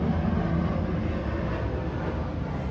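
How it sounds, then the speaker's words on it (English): A loud airplane flies overhead, a steady low engine drone that fills the whole stretch with only slight changes in loudness. "wow, it's a really loud plane"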